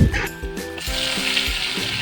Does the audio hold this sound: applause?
no